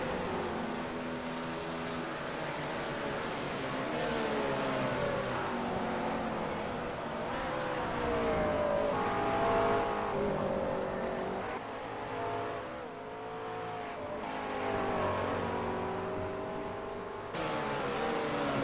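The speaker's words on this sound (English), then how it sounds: "Seven-car Pure Racing team just exiting the pits now" Race cars leaving the pits during the 24 Hours of Spa, a sustained engine drone with shifting pitch as they accelerate, steady and moderately distant throughout.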